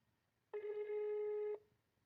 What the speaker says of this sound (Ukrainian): Зараз телефонуємо тепер цьому же продавцю.